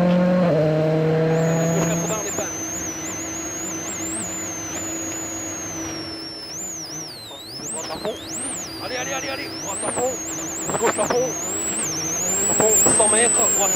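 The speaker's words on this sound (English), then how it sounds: "as it was drifting wide out of the corner, getting the power on and propelling himself up the hill" A rally car on the Monte Carlo Rally drifts wide out of a corner and accelerates uphill, its engine droning under steady commentary, with revs rising and swelling toward the end.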